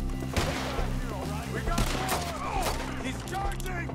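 Dense, rapid gunfire from the video game Red Dead Redemption 2 crackles nonstop with sharp bursts and booms, while a person talks over the noise.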